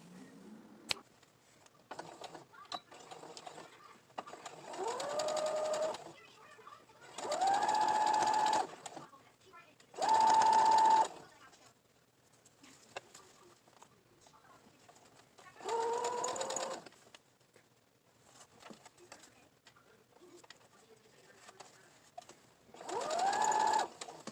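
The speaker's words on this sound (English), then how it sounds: "I'm going to head over to the sewing machine. We're going to put that seam in it" A sewing machine stitches a seam on a fabric face mask in several separate bursts of steady whirring, with quieter pauses and faint handling sounds in between.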